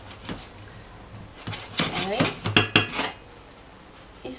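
A utensil scrapes and clanks against a frying pan, loosening stuck vegetables and pork meat juices, with a burst of metallic scraping and knocks midway after quieter handling sounds.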